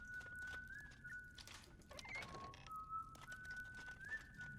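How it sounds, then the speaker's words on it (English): Silas, a character in the video game Ghost of a Tale, whistles a thin, wavering tune while held in prison, the melody steady and fairly faint over soft ambient game sounds, with no talking. "I think I can already hear him whistling over here."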